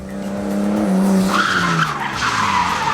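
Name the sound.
car skidding sideways in a driving-course slide exercise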